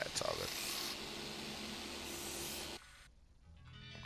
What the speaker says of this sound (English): And see, we spray the paint.